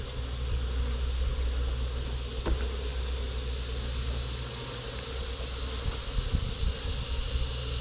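Honeybees buzz steadily at an opened hive, a dense, continuous drone that stays close and loud throughout with no talking.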